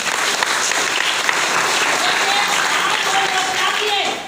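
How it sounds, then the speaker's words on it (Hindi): Loud, dense applause from an audience at a DXN business training meeting, a continuous roar of many hands clapping that holds steady for several seconds before easing slightly at the end. "उन लोग से जोरदार ताली"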